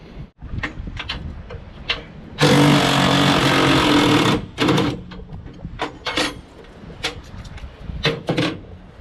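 A DeWalt power tool loosens a bolt on a King Kutter 72-inch finish mower fitted to a John Deere 1025R during a belt change. Close, loud whirring burst of about two seconds, with scattered clanks and knocks before and after.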